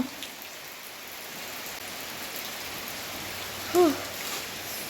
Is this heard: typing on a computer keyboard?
no